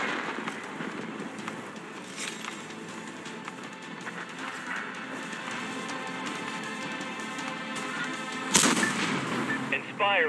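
Tank cannon fire in the World of Tanks video game on the Normandy map, a dense stream of rapid shots over a rumbling battle bed, with a sharp loud blast near the end.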